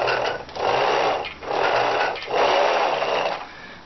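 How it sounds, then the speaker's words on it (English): Wheels of a Cobra Razorback toy vehicle rolling across a wooden surface, making a steady buzzing whir in three long, even passes with short pauses between, close and fairly loud with no voices. "the cool sound that the wheels make when you're playing with an wooden surface"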